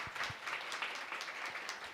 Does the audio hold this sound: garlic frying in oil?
no